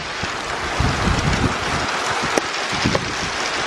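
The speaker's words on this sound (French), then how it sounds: "il pleut vraiment dehors" Steady, loud hiss of rain falling outside, a dense continuous wash of noise with occasional louder taps.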